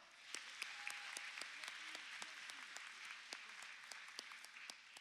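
Applause from an audience at a graduation-style ceremony as honorees are introduced one by one, heard as a faint, distant, steady patter of many hands with a few sharper individual claps poking out, and no talking over it.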